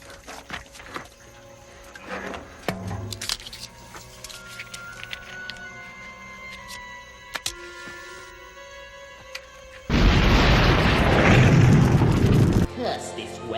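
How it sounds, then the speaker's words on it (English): A well is blown up in the film Leprechaun, a loud sustained roaring blast that erupts suddenly after a stretch of quieter movie sound and music, then cuts off after about three seconds. "So Uncle Jesse, I mean Nathan, explodes the well."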